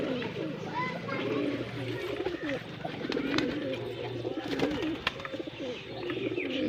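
Pigeons coo steadily while being fed grain, a low continuous burbling chorus from several birds with brief chirps mixed in and murmuring voices in the background.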